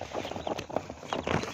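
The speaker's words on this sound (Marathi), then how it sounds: "असे मस्त प्युअर गावरानी पिल्लं तुम्ही बघू शकता" Young native country chicken chicks with their mother hen, giving soft scattered peeps and rustling close by, with no talk.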